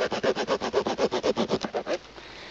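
A Swiss Army knife saws through tent line in a rapid run of about fifteen rhythmic back-and-forth strokes, close and fairly loud, before stopping.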